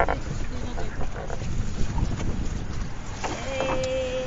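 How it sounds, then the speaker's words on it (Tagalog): A boat's motor drones steadily amid wind buffeting the microphone, with brief voices and a whistle-like tone near the end. "malakas yung tunog ng motor"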